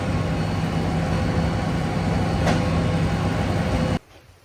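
Trains passing outside a window, a steady loud rolling rumble with a single sharp clank partway through, cutting off abruptly near the end.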